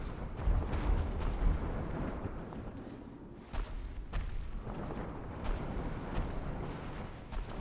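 Fire bomb explosions in Dark Souls 3, a series of rumbling blasts and sharp bursts repeating over several seconds amid ongoing combat noise.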